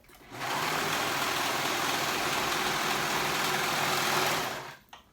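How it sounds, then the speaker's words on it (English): A sewing machine hums continuously at an even speed while sewing the shorter edges of a jacket cuff together, then stops abruptly; close and fairly loud, with no talking. "And I'm going to sew that together."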